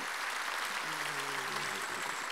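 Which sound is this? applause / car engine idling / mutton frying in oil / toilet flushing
applause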